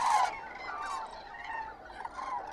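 Geese honking in a flock, with cranes nearby, heard in muddy wetland; a loud burst of overlapping honks at the start gives way to steady, somewhat distant calling throughout.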